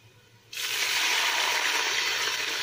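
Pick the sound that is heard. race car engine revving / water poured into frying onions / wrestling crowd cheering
water poured into frying onions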